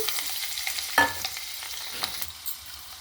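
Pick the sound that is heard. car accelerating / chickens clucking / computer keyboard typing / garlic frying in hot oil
garlic frying in hot oil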